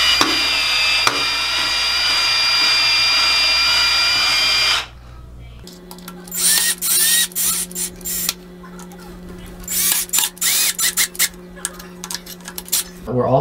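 A power drill runs steadily for several seconds, then drives screws into a toilet flange in short whirring bursts with clicks and handling noise, close by.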